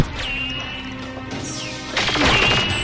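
Gunfire rips through glass in Perfect Dark on the Pelagic II level: thin electronic tones hang in the background, then a loud, sudden smash of breaking glass bursts in close and rings out briefly.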